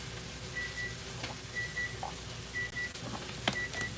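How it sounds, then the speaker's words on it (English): A kitchen timer beeps in short repeated bursts, three or four evenly spaced two-part chimes, moderately loud over a low hum of background kitchen noise while cauliflower pizza is being made. "my timer going off"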